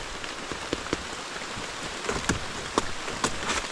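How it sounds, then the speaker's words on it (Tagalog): Steady rain falls in a tropical forest, a dense continuous patter with scattered louder drops striking leaves nearby, no voices present. "wala nang tigil ang ulan"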